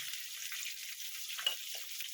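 Eggplant pieces frying in hot oil with salt and turmeric over a high gas flame give a steady, close hiss of sizzling with faint clinks of stirring.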